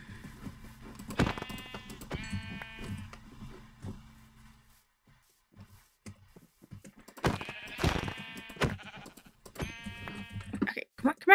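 Sheep in a video game bleat several times in short wavering calls, close and clear, with quiet gaps between them and no speech over the calls.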